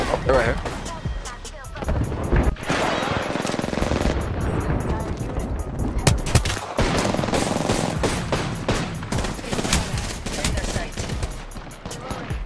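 Dense, continuous automatic gunfire and explosions in an Apex Legends match, rapid bursts layered over booming impacts for the whole stretch, loud and close, with a voice talking underneath.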